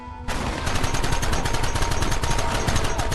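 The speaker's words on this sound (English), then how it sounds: "Fingers on the triggers, boys! There they are! Open fire!" Dense, continuous gunfire from a Red Dead Redemption gunfight in the Old West, a rapid overlapping barrage of loud shots starting abruptly after a brief quiet moment and carrying on steadily to the end.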